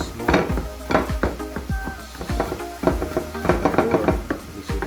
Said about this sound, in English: So first thing I'm gonna do is just slice garlic.